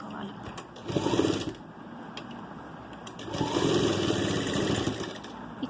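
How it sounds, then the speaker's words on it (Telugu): A sewing machine stitching a cloth face mask whirs in two close bursts of rapid needle chatter separated by a short pause, while a person talks in between and over the stitching. "కుట్టు వేసుకోవాలి."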